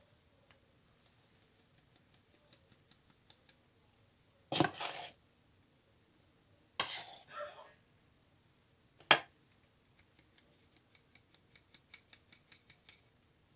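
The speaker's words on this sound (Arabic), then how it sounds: "دابا غادي ندوز معكم باش نغربلهم على هاد الخليط هذا" Cocoa powder and flour being shaken through a sieve for an eggless, milk-free chocolate cake: quiet rhythmic tapping and ticking, broken by a few sharper clattering knocks in a still kitchen.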